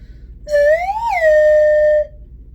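A single sustained whistle note in an elementary school music lesson, rising briefly then holding steady for about a second and a half, clear and close against a quiet background.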